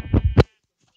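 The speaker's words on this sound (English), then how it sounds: "There's another sheep over there." A single short sheep bleat in a blocky crafting video game, close and clear, wavering for about half a second before cutting to silence.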